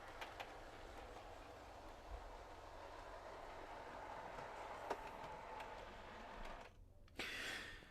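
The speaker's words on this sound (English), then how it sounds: "Then there's a proper push-pull loco that works on this little shuttle line here." A model railway push-pull locomotive running on a small shuttle line, a faint continuous motor whir with light clicking of wheels over track, quiet and close, ending in a brief louder rustle.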